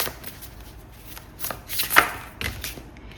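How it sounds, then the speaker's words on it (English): A deck of tarot cards being shuffled by hand, a series of soft riffling and slapping bursts at close range, uneven in rhythm, with no talk. "I want to shuffle again because that felt a little bit iffy to me"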